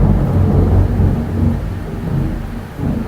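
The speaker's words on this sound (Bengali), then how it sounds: "এই আওয়াজটাই বুঝতে পারছো আমাদের এখানে কী পরিমাণে বৃষ্টি হচ্ছে আর কী পরিমাণে মেঘ ডাকছে" Low rolling thunder rumbles continuously under a steady wash of heavy rain, loud and close.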